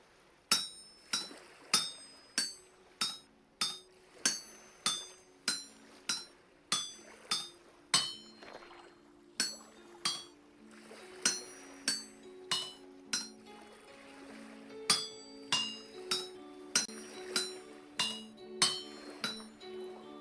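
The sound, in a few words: hammering an iron pickaxe head in the Vintage Story video game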